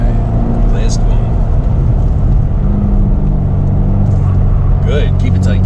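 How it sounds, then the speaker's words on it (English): A Chevrolet Corvette C7 Z06 engine growls under throttle on an autocross slalom course, a loud low rumble heard from inside the car, steady throughout with brief higher whines near the end. "You're stepping on the gas and it's kind of like growling before it gives you power."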